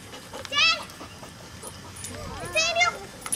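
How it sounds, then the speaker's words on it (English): A small yippy dog gives a couple of high, sharp yelps and whiny barks, close by, while people talk and children's voices mix in around it. "That little yippy dog."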